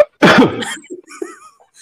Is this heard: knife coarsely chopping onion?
no